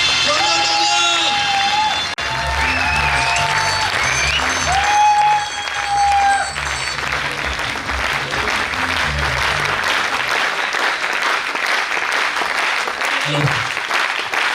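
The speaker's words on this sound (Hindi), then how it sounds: "जोरदार तालियां।" A large Safe Shop audience gives loud, sustained applause with scattered cheers and whoops for Sanjay Jain, rising over music and then continuing as dense, unbroken clapping.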